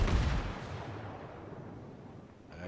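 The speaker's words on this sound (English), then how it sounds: "he's firing at me now." Heavy naval guns boom from a warship in World of Warships, a loud low blast at the start that rolls off into a long rumbling decay, with a faint crackle near the end.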